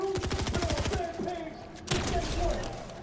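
Rapid bursts of gunfire from a shooter video game, with fast rhythmic shots packed into the first second and then a loud, sharp burst near the end, over steady game background noise.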